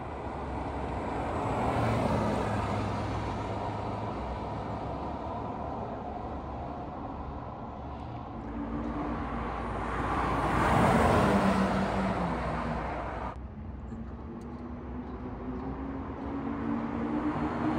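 A BMW M2 driving on the Dubai Autodrome race track, its engine drone steady and broad, swelling and fading as it passes, with no voices.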